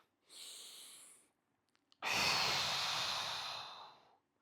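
Two long, close breaths during a standing quad stretch, a soft inhale followed by a pause and then a louder, rushing exhale that fades out slowly.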